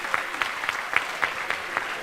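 Applause from a conference audience welcoming speakers to the stage at a comics event, a steady patter of clapping with a few sharper individual claps standing out, moderately loud and continuous.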